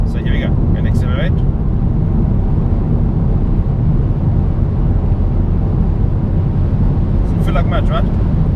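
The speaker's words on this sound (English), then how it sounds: "So I'm going to accelerate now in eco mode, so you can hear what I'm talking about, right?" A Volkswagen Golf GTI 7.5 accelerates in eco mode, its steady, subdued engine drone and road rumble heard from inside the cabin, with a voice speaking over it.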